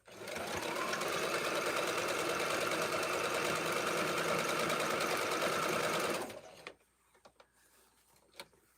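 A sewing machine stitches a quilt block seam for a Hansel & Gretel block, running loud and steady for about six seconds before stopping abruptly, followed by a few faint clicks and handling noises.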